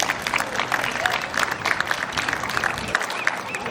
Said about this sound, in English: yes, you can applaud for that